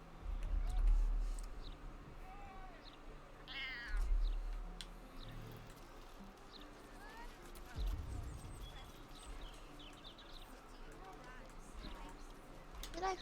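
Cat in the video game Baldur's Gate 3, meowing in short calls over game ambience with hoof-like clopping and clicks, while a person talks at times.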